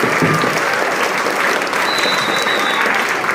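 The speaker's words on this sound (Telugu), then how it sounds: "అందరూ గట్టిగా చప్పట్లు కొట్టి." A school audience claps loudly and steadily at a Telangana language day celebration at Shivani High School, the dense applause filling the whole stretch without a break.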